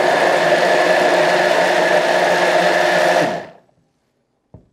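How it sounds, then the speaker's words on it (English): A stick blender whirs through a fruit mixture for Thai look choop, a loud, steady motorized drone that holds for about three seconds, then spins down into silence, followed by a faint click. "I am using my stick blender just because it's easier, and you want this completely, completely smooth."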